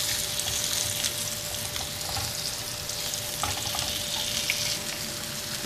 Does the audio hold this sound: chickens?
no